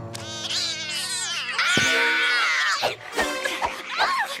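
Kittens meowing in the George of the Jungle cartoon, loud overlapping high-pitched meows and wails running continuously and close, with no talking.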